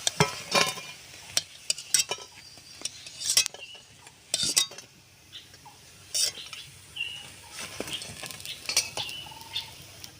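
Lentil fritters (bora) fry in oil in a pan, a low sizzle broken by repeated close spatula scrapes and clanks as they are turned and lifted out.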